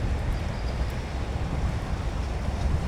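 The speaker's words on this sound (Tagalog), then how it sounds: "Mahangin nga lang." Steady wind roars and buffets the microphone for a few seconds, a low continuous rumble with no voices.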